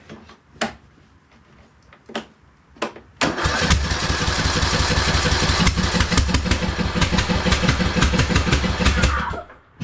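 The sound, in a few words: lawn tractor engine running roughly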